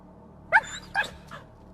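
A dog outdoors on a walk giving two or three short yipping barks, moderately close, over faint background hum.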